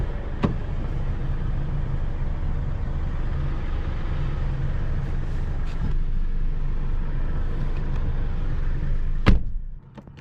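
A 2022 Mercedes-Benz E 350 sedan with a 255 hp engine pulls away and drives with a smooth, steady engine and road hum heard from inside, ending with a sharp click before quieting.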